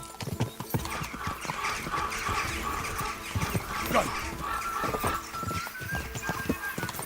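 Galloping horse hooves in the video game Kingdom Come: Deliverance II, a rapid steady clip-clop running throughout at close range, with a brief spoken word and other game sounds mixed in.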